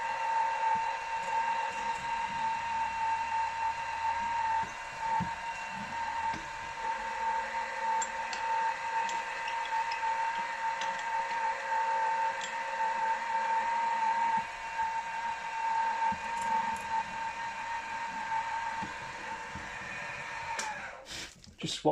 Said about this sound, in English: I'm just going to drill some 68 clearance holes in the base